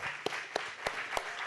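An audience at a Future Forum 2023 stage event applauds in a brief burst of sparse, evenly spaced claps that sound fairly close.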